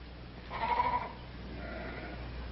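A sheep bleats once, loud and wavering, followed by a fainter second bleat over a low, steady rumble.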